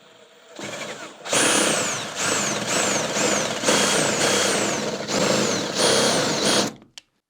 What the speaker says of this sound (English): take a drill with a spot welded drill on it that is supposed to not go through the plate